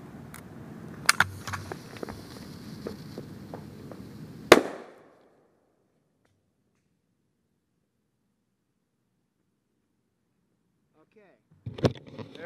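A Hakkotsu Thunder B airsoft grenade goes off outdoors with a single sharp, loud bang after scattered rustles and footsteps, followed by several seconds of near silence before more movement returns.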